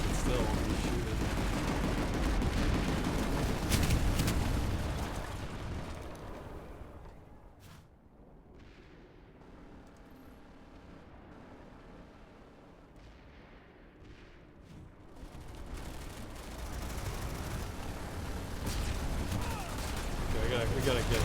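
Gunfire and explosions in the sci-fi shooter Planetside 2, dense loud bursts of shots and blasts at the start, dropping to a quieter lull in the middle before heavy firing returns.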